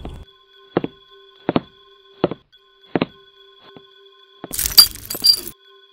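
A run of evenly spaced dull knocks over a faint steady hum, then glassware shatters in a kitchen with a bright crashing burst and tinkling fragments, as a horror sound effect.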